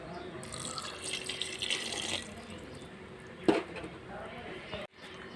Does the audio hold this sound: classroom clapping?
no